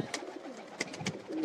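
Flying pigeons kept by a breeder coo softly in a loft, several low throaty calls overlapping with faint chirps, fairly close and steady with no talk.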